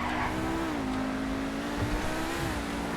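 A Pegassi Torero XO sports car engine in GTA Online hums steadily at moderate volume, pitch dipping and rising slightly as it drives, with no talking.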